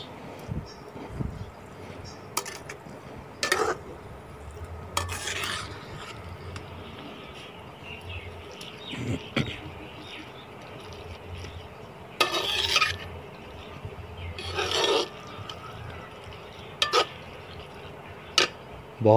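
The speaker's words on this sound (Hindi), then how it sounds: "इसके बाद इसको अच्छे तरीके से भून लेना है।" Onion masala being stirred and fried in a pan over an outdoor clay stove, heard as intermittent scraping clinks of a utensil against the pan over a low, steady sizzle.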